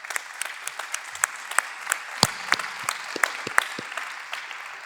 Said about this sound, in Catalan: al que també li envien un aplaudiment